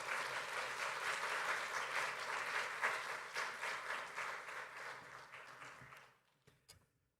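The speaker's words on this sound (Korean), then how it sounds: "나오실 때 박수로 환영해 주시기 바랍니다." Church congregation applauding to welcome the pastor, dense steady clapping that thins into a few scattered final claps and then stops.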